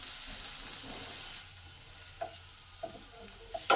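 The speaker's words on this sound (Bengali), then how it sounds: "পেঁয়াজটাকে একটু ভালো করে লাল লাল করে ভেজে নেব।" Chopped onion fries with salt in a pan, a steady, gentle sizzle with a few sharp stirring scrapes near the end, close by and fairly quiet, with no talking.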